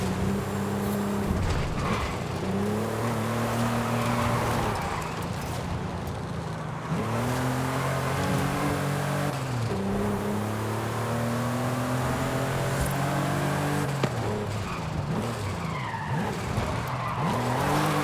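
A Porsche Carrera 911 races in Forza Horizon 5, its engine revving up and down through repeated gear changes while tires squeal and skid through corners, loud and continuous with no talking.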